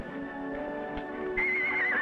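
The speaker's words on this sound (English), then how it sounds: "You know, Ellie, I do believe that horse whinnies with a Southern drawl." A horse named Champ whinnies in a single drawn-out neigh lasting about two seconds, rising and wavering near its end, close and clear with no talk over it.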